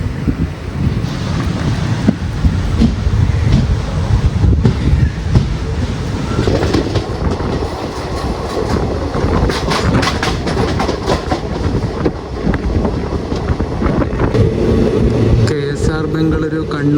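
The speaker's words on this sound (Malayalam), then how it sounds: "മലബാർ എക്സ്പ്രസ് നീലേശ്വരം എത്തിയിട്ട് ഡിപ്പാർട്ടായി" The Malabar Express pulls out of Nileshwaram station with a loud, continuous rumble and rhythmic wheel clatter, heavy wind buffeting the microphone, and a voice talking now and then.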